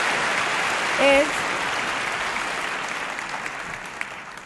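Broad sustained applause fills a large Academy Awards ceremony hall as a winner is announced, a steady wash of many hands at even loudness with a brief tonal blip near the start.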